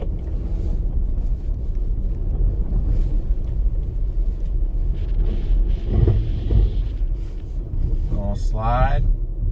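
Car on Cooper Discoverer AT3 4S tires spinning and slipping in deeper snow over a gravel lot, a steady low rumble with wind noise and brief surges, close and loud throughout.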